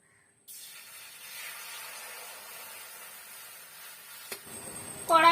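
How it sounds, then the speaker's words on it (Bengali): Water poured into a hot kadai after frying spices, for a Bengali singara filling, bursts into a loud continuous hiss that sputters on steadily, with a sharper splash and louder crackle near the end. "এই কড়াইতেই আমি জল দিয়ে দেব।"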